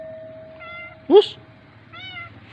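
A stray cat at a market meows twice in short, high calls, with a brief loud human voice calling out between them, all close by over a low murmur of background noise.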